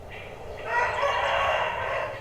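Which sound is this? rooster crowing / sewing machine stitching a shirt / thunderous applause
rooster crowing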